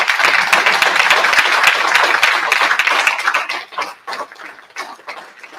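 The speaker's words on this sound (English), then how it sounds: "a huge round of applause for what those who do talk about" Audience applause at a livestreamed UAP oversight hearing, a burst of clapping that holds steady for about three seconds and then thins into scattered claps as it dies away.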